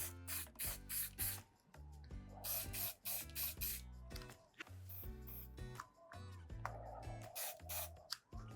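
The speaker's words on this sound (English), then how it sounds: "Then I'm going to break out my spray paint." Blue spray paint hisses from an aerosol can onto a bubble mailer in short repeated bursts, up close and fairly faint, alongside light rustling from handling the mailer.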